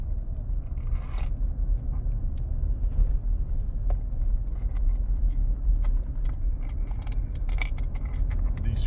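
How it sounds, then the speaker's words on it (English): Loose screws jingle and rattle inside a moving 2012 Chevrolet Silverado, small metallic clinks scattered irregularly over the truck's steady low road rumble, close and moderately loud. "These screws rattling around are about to drive me crazy."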